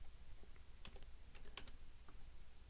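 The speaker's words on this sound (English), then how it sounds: "Make sure we type that in correctly there." Rapid, uneven keystrokes tapped on a computer keyboard, a short burst of clicks entering a value, close and moderately loud with no voices.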